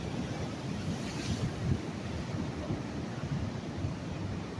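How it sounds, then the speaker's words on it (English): Large ocean waves surge and wash continuously onto the shore at Pismo Beach at night, a steady broadband roar with heavy wind buffeting the microphone throughout. "whoa, look at these big old waves."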